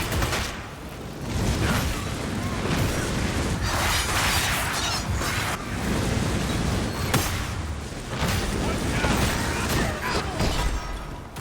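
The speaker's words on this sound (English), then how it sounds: "So many explosions." Explosions during a battle in the Dragon Age Inquisition Trespasser DLC: repeated heavy booming bursts and crashing effects layered over dense game noise, coming in waves with no clear pause.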